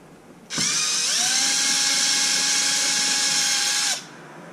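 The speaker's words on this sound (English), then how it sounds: "There's one left over here, which I'm gonna have to use my other drill for" A power drill drives screws into an XMAXX RC car, a single close, loud, steady high whine lasting about three and a half seconds, spinning up sharply and cutting off cleanly.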